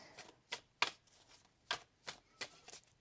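Tarot cards being shuffled by hand in a quiet room, a series of crisp riffling bursts and soft slaps coming at an uneven pace, close and fairly loud, with no talking.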